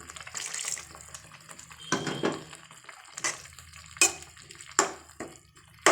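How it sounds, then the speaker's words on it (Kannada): Water splashes in a few short pours and bursts into a jar, separated by quiet pauses, close by. "ಅರ್ಧ ಲೋಟದಷ್ಟು ನೀರು ಹಾಕಿದ್ದೀನಿ."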